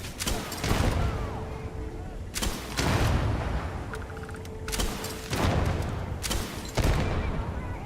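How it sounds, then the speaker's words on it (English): Grenade blasts and gunfire in the video game Starfield during a Freestar mission, heavy booming explosions landing in four or five bursts with crackling shots between them, loud and close. "are there just grenades falling from the ceiling?"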